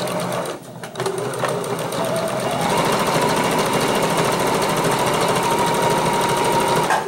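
Sewing machine running steadily through curtain fabric, loud and close with a fast continuous stitching rattle after a brief pause near the start.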